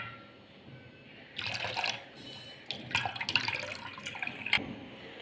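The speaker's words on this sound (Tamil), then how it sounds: "பால் ஊற்றிட்டு நல்லா மிக்ஸ் பண்ணிக்கோங்க" Milk pours into strained carrot and pomegranate juice for a milkshake, heard as close, irregular splashing and liquid gurgling in a few bursts after a quiet start.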